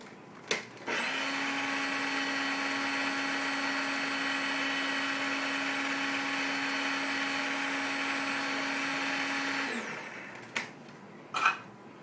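An electric mixer or blender whirs steadily for about nine seconds while mixing homemade mayonnaise made with powdered eggs, a constant motor hum that winds down, followed by a couple of sharp knocks.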